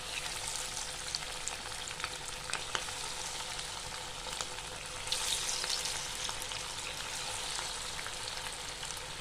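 Chicken pakora pieces frying in hot oil, a steady close sizzle and bubbling that runs throughout with small crackles and a slight surge midway, no talking.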